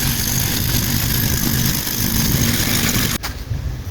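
A loud, steady petrol engine drone comes from a revived Craftsman 22 inch weed trimmer, with a sharp click near the end before the pitch drops slightly.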